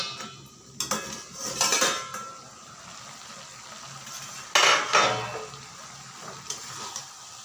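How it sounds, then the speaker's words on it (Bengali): A metal lid lifted off a pan of frying mourola fish, with two bright clattering metallic scrapes and clanks, then a quieter low sizzle underneath and a faint later clink. "ঢাকাটা খুলে একবার দেখে নিচ্ছি।"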